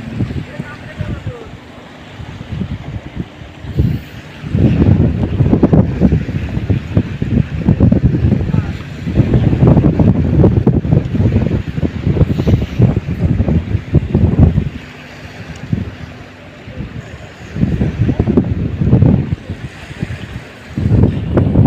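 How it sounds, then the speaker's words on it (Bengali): Strong wind at an outdoor fishing pond buffets the microphone in a steady, gusting roar that swells and eases in loud surges throughout. "প্রচুর পরিমাণ বাতাস,"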